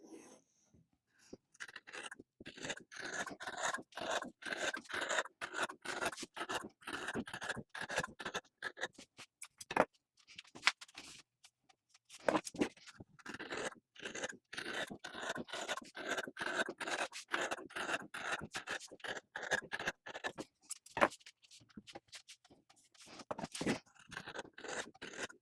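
Scissors cutting fabric circles for jar toppers, 6-inch rounds from 3/8 yard of cloth, a long close stretch of steady crisp snips and rasps in a fast rhythm, with a couple of brief pauses and no talking.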